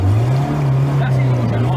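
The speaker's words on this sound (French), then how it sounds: "Là c'est le moteur qui aspire l'eau là." A motor drawing up water runs steadily as a low, loud, continuous hum with a rushing wash over it, close by and unbroken for the whole moment.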